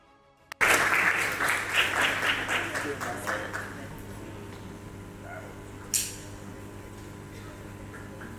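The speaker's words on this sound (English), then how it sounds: "A round of applause, ladies and gentlemen." Applause from a conference audience bursts out after a speaker is introduced, loud at first and tapering off over several seconds, with a brief clatter near the end.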